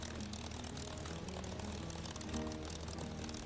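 The propeller engine of a P-51D in a flight simulator game runs loud and close, a dense, continuous roar with a steady low throb.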